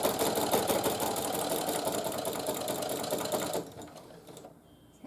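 Sewing machine stitching a quilt-as-you-go table runner, a steady rapid mechanical whir for about three and a half seconds that then stops, leaving faint handling sounds.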